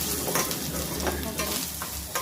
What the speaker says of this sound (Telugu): అల్లంని ఫ్రై చేసుకొని అల్లం బాగా వేగాలి